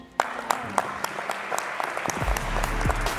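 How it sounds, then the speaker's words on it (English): Applause breaks out for award winners returning to the stage at the 2025 DesignEuropa Awards ceremony in Copenhagen, a dense, steady wash of clapping from a large audience that starts abruptly and keeps up with a few sharper claps near the front. "we would like to invite all the winners of today back to the stage for photographs and, more importantly, for a big, big applause"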